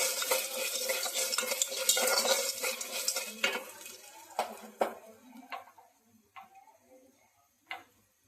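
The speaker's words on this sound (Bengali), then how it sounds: "একটা একটা করে ফুটতে শুরু করে দিয়েছে" Popcorn kernels heating in a pan, with a flurry of scraping and stirring that gives way to a handful of separate sharp pops spaced apart as the kernels start to burst one by one.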